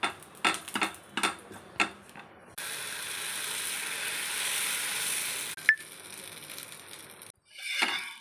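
Oil sizzles on a hot dosa griddle: a few sharp clicks first, then a steady close hiss for about three seconds, a quieter stretch, and a short final burst of sizzling.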